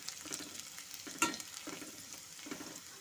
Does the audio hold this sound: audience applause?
no